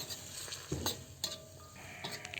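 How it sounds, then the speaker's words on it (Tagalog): Pancit canton noodles being stirred with soy sauce in a pan, giving soft scraping and clinking of utensil on metal in a few short strokes over a faint sizzle. "Haluin natin."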